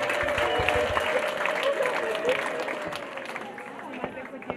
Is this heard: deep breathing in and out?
no